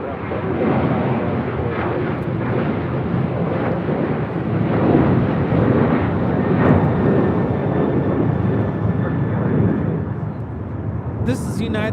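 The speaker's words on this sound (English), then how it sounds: "This is United 1821 taking off to Denver, Colorado on a 737-900ER" A United Boeing 737-900ER bound for Denver takes off at LAX, a loud sustained jet roar under a man's speech, with wind buffeting the microphone.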